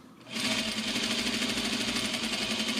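A sewing machine back stitches at the top of an exposed zipper in a garment, running as a steady, loud, rapid mechanical whir that starts abruptly and continues evenly throughout.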